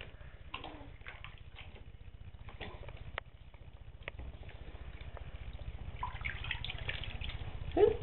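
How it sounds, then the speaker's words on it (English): A puppy is bathed at a sink, with soft, continuous water splashing and trickling close by and occasional louder splashes, quiet overall, growing a little busier toward the end. "This is Molly's third bath"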